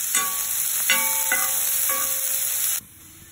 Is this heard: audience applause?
no